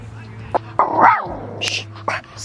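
A dog barks a few times nearby in short, sharp bursts over a steady low background hum, with some brief vocal noises between barks.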